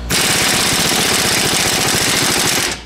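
Impact wrench hammering on a stuck ball joint of a 2010 Nissan Rogue, a loud, rapid, continuous rattling burst lasting a few seconds before cutting off.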